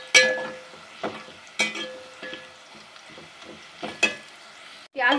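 A medium onion frying in about 100 grams of ghee, heard as a soft background sizzle broken by several sharp stirring scrapes and clinks of a utensil against the pan.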